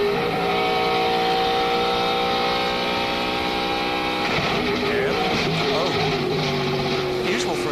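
Michael Waltrip's NASCAR race car heard from onboard during a 2003 NBC broadcast, with a loud, constant engine roar whose pitch holds steady then drops and wavers, filling the whole clip.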